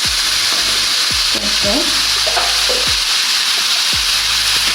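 Tinned fish sizzles and crackles steadily in a hot pan over low heat, with a few soft clinks of a utensil stirring against the metal.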